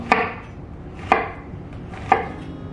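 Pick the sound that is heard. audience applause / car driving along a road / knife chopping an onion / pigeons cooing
knife chopping an onion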